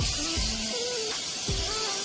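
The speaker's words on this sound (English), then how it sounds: "Let me spray it with pan spray" Pan spray hissing onto a baking pan, a continuous close aerosol hiss with a couple of faint low thumps beneath it.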